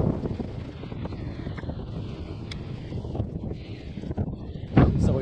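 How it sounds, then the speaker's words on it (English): Headwind rushes past a rider on a 250W e-bike, a continuous low buffeting roar with brief louder gusts, steady and close throughout. "right now we're going directly into the wind for the most part"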